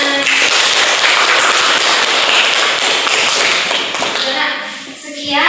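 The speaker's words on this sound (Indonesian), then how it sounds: "Oke, tepuk tangan." A seated audience claps after a presentation, a brisk, continuous patter of hands that thins out near the end.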